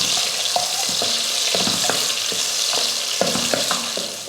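Chopped small onions and spices sizzle and fry in hot oil, a steady crackling hiss broken by repeated clinks and scrapes of a spoon stirring the pan, close and without talk.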